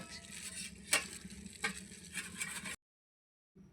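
Mankachu (giant taro) rubbed and grated by a plastic-wrapped hand, a soft, steady scraping with a couple of sharp clicks, close and quiet, then an abrupt drop into silence.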